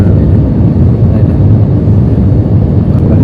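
A loud, steady, low roaring drone fills an airliner cabin as the plane descends to land in Las Vegas, the engine and air noise continuous without a break.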